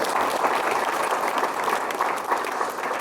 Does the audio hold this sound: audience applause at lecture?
yes